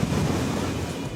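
Ocean surf rolling in at Newport Beach, Southern California, as storm-driven swell from the South Pacific makes landfall; a steady, loud wash of breaking waves with no pauses.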